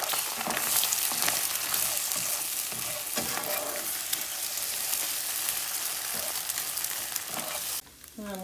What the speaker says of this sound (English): and then we're gonna make our eggs